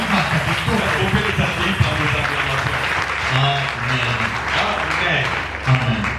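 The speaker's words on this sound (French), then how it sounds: "On peut les accueillir par nos acclamations." Congregation applauding and cheering during a Sunday church service, a steady wash of clapping with voices calling out, sustained and fairly loud throughout.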